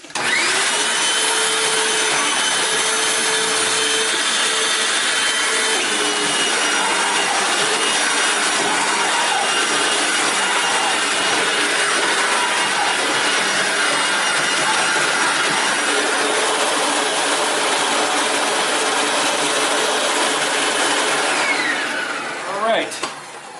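A repaired Hoover WindTunnel U6485900 self-propelled upright vacuum cleaner runs steadily and loudly with a constant high motor whine and airflow roar, then winds down abruptly at the very end.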